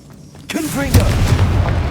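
A Confringo spell from the video game Hogwarts Legacy is cast with a whooshing rise, then a loud booming blast that lingers as a deep rumble, following near-silence.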